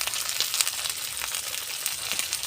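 Brinjals dropping into a pan of egg curry, met by a steady broadband sizzle and frying hiss that holds evenly throughout, close and moderately loud, with faint stirring.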